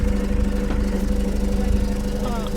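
A Peugeot 307 engine idles nearby after exhaust and oil repairs, with a steady, low, throbbing rumble that holds even throughout.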